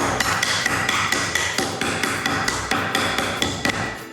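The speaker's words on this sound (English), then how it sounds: "So I'm just gonna crush these up." A hammer crushes peppermint candies on a kitchen counter in a quick run of sharp, loud blows. Around twenty close cracking strikes follow one another steadily, with no talking.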